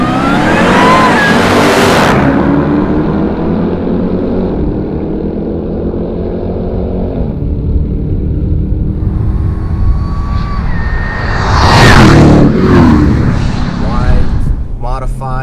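Hellcat Durango, a 1000 HP or 710 HP build, launching in a drag race: a loud, sustained engine roar that rises and shifts pitch, with a second strong surge near the end. Cheering and talking mix in over it.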